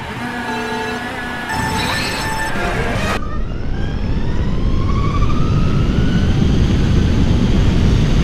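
Electric motors whine loudly with rising tones as a LiveWire One and a Zero SR/S electric motorcycle accelerate hard in a drag race, then a broad roaring rush of speed and wind takes over.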